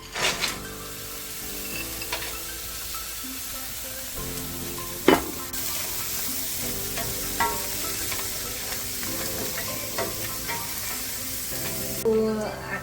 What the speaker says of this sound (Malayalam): ഇനി ഇതിലേക്ക് ഞാൻ വെജിറ്റബിൾസ് ഇടുക കേട്ടോ.